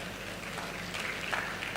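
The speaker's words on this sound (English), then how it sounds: "A round of applause for Chinua," A conference audience applauds a speaker being welcomed to the panel, a steady wash of clapping that stays fairly even throughout the brief moment.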